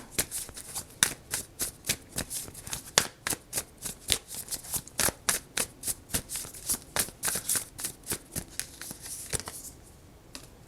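Tarot cards are shuffled close up for about ten seconds, a rapid series of crisp riffling flutters and slaps that thins out near the end.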